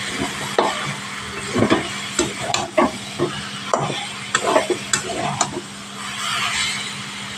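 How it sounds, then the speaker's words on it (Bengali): Spatula scrapes and stirs cabbage chorchori in a pan, with irregular close scraping strokes over a steady low sizzle of frying. "এবার 5 মিনিট করে ফিরে এলাম, বেশ এইভাবে নাড়াচাড়া করে দিতে হবে।"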